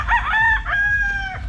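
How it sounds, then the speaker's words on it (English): Tethered roosters in a Philippine yard crow loudly and close by, two drawn-out cock-a-doodle-doo calls back to back over faint low background noise. "I just wanted to show you all the roosters here"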